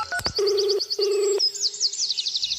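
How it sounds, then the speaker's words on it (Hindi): A telephone call is dialed, with short electronic tones and two steady beeps separated by a brief gap, while high chirping sounds run over the top. "मैंने फिर से कॉल लगाया।"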